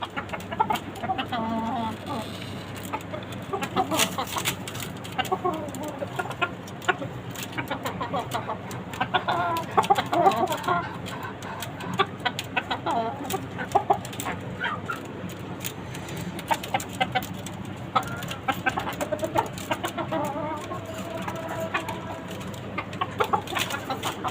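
Chickens and a rooster cluck and chatter almost nonstop on a rooftop farm, with a steady run of short, overlapping calls at close range and scattered sharper notes throughout.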